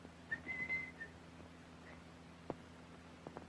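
A man whistles a few short, clear notes close by, followed by faint clicks and small knocks in a quiet room.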